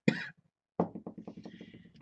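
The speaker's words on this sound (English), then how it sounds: "Keep coughing." A sharp cough, a pause, then a rapid string of smaller hacking coughs trailing off, close and fairly loud.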